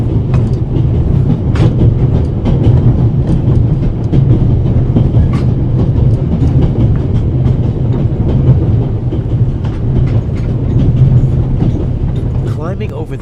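A moving train in the video game The Raven, crossing the Swiss Alps with a coal car behind the cab: a loud, steady rumble and rattle of wheels on track that runs continuously and close throughout, with a few faint clanks.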